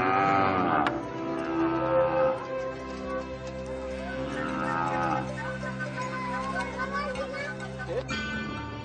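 Cattle mooing in the Namib desert, raised by Herero herders, with long low moos under a steady French narration and background music.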